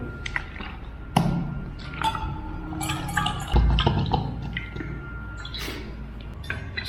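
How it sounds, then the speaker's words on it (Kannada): Water splashes and trickles into a camping pot for packaged tomato soup, with scattered drips, light clinks of metal and glass, and a few sharper knocks, close by and fairly quiet. "ಸೊ ನೀರು ಹಾಕ್ತೀನಿ ಇದಕ್ಕೆ."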